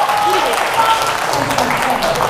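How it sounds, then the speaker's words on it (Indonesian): An audience gives a loud, steady round of applause, dense clapping with faint voices mixed in underneath. "Kita kasih tepuk tangan dulu."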